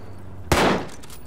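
A single gunshot in the ARMA 3 World War II French Resistance mission, a sharp close crack followed by a short echoing tail.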